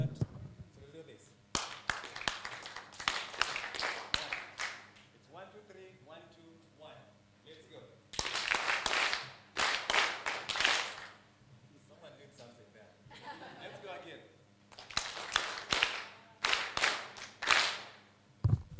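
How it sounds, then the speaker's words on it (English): An audience at a media awards ceremony breaks into several bursts of loud clapping, separated by stretches of talk over a speaker system. "I think we'll have a different kind of clap for you"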